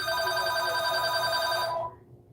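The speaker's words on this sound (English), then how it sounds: "and another line's ringing." A shop telephone line rings with a steady, bright electronic trill that holds loud and close, then cuts off abruptly.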